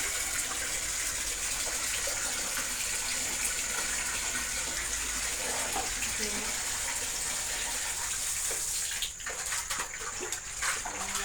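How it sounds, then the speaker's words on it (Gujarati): Water gushes steadily as it is poured over freshly picked drumstick pods to soak them, a constant splashing rush that shifts and sputters near the end. "હવે આપણે તેને પાણીમાં પલાળી નાખશું"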